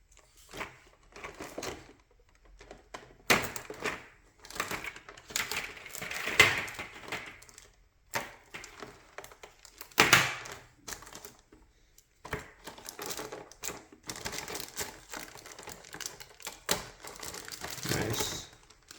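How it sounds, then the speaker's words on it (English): An X-Acto knife slices and picks tape off action figure packaging. The close, quiet scratching and tapping comes in short irregular bursts, with soft plastic crinkling between them, and no one speaks. "I'm just gonna get rid of the tape with the X-Acto knife."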